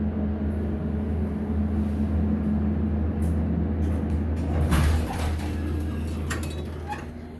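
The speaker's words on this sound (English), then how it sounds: "if the fan wasn't running, we'd be able to hear that motor a little better" A Dover hydraulic elevator at a JCPenney store hums with a steady low motor drone under a continuous fan whoosh, close and constant, with a brief clunk near the middle.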